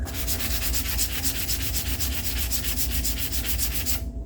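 A laminate pistol grip's palm swell is hand-sanded in close, rapid back-and-forth strokes that rasp steadily for about four seconds before stopping, with no voices present.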